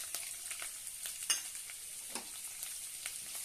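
Chopped onion, mustard seeds and curry leaves sauté in a hot pan, giving a steady close sizzle broken by a few sharp spatula scrapes and stirs, with no voices.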